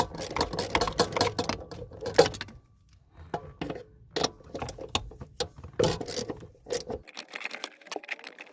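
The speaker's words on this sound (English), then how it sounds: "This is how you're gonna take that nut from this angle with the extension." A ratchet on an extension loosens a nut from a car's clutch master cylinder, giving close, rapid bursts of metallic clicking with a brief pause partway through and no voices.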